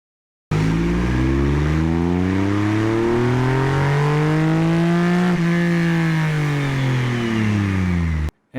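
A Triumph Rocket 3 motorcycle revs hard on a dyno, its loud engine note climbing steadily in pitch through a long pull, easing slightly, then rising again before cutting off abruptly, alone without talk.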